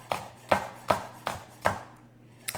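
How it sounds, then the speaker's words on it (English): Five evenly spaced knife strokes thinly slice green onion on a cutting board, each a sharp close thud, with a faint final tap after a short pause and no voices. "I'm chopping off that root section. And I'm going to slice,"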